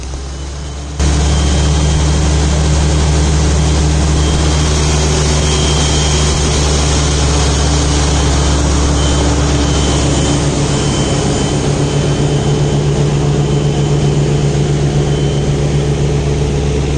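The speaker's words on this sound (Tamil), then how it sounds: "இன்ஜின் ஒர்க்கு எல்லாமே பார்த்திங்கன்னா இந்த கம்ப்ரஸருக்காக கொடுத்த இன்ஜின்." Turbocharged six-cylinder engine powering a compressor on a tractor-mounted drilling rig, a loud steady close-up roar with a constant low drone and no pauses, running alone throughout.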